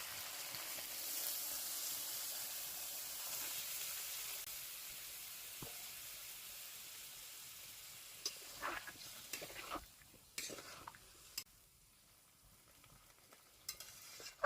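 Water poured into a pan of sautéed potato filling for singara, a loud hissing sizzle that slowly fades, followed by scattered crackles and pops as the mixture settles.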